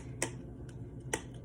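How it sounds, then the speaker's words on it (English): A little metal spoon clinking against the side of a cup while stirring herbal tea, two sharp faint ticks about a second apart with a softer tap between, close and quiet with no talk. "So I'll give it a little stir"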